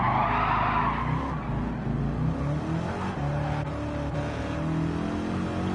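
Tires skidding and squealing in Gran Turismo 7 racing, a sustained screech over a loud droning engine note that shifts in pitch as the car slides and accelerates, close and continuous.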